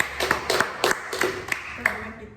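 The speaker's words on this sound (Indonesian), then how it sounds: "Oke, tepuk tangan dulu untuk kita semua." A small group of high school students in a classroom claps hands in a loose, rhythmic series of sharp close claps, with some voices and a bit of talking mixed in.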